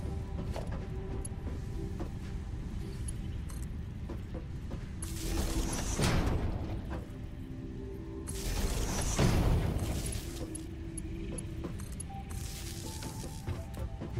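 Factory machines making screws in the video game Satisfactory give off a steady mechanical clatter and hum, with two louder whooshing, grinding swells rising and fading.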